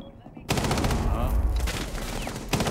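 Rapid gunfire from pre-firing in the tactical shooter Rainbow Six Siege, a dense burst of loud shots that starts abruptly after a brief lull and runs nearly continuously to the end, with a faint voice underneath.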